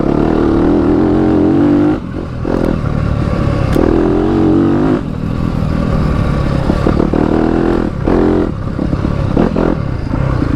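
A 2021 Yamaha YZ250FX dirt bike engine heard close while riding, a loud continuous buzzing drone that rises and falls with throttle changes, with brief dips and some rattling clatter mixed in.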